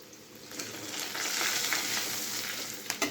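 Garam masala, turmeric and chili powder fry in a pan with a steady, moderate sizzle that swells midway, broken by a few light stirring taps near the end.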